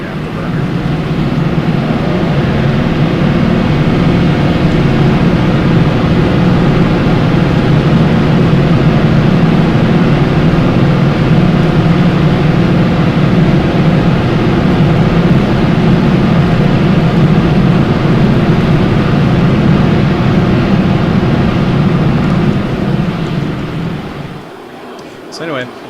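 A military jet in the video game Arma, on an Invade & Annex server, roars with its afterburner lit, a loud continuous engine rumble that holds steady and then cuts off near the end.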